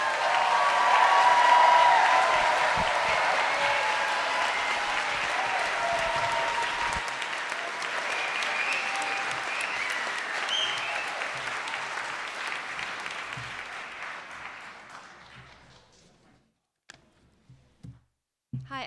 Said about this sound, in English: One last round of applause for 23 and 24.